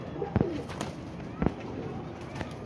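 Rampuri pigeons coo near the listener, giving a few soft throaty calls over a faint outdoor hiss, with sharp flutters or taps mixed in.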